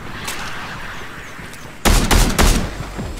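Gunfire in the video game Fortnite, a quiet stretch of game ambience and then a burst of several loud, close shots in quick succession.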